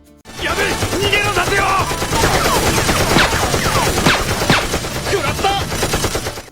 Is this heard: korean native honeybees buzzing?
no